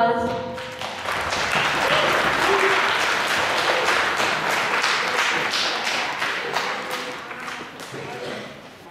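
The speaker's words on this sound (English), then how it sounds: "Please give our wonderful cast a round of applause." Audience at a stage performance applauds the cast with steady, dense clapping for several seconds that tapers slightly at the end, with some crowd noise and voices mixed in.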